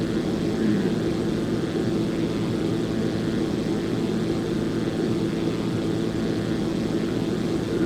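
A Zlin 142 light aircraft's propeller engine drones in a flight simulator, a loud, steady, unbroken hum with a low rumbling tone that holds constant throughout, with no voices.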